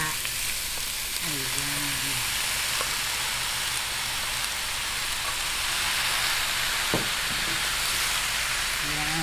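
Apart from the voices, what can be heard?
frying in a pan to render fat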